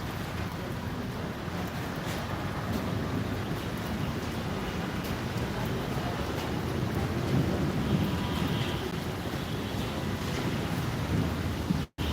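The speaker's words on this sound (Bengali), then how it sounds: "বৃষ্টির তীব্রতা কমে এসেছে কিছুটা" Rain falls steadily on an outdoor street as a dense, even hiss with no breaks, continuous and fairly close, with no voices over it.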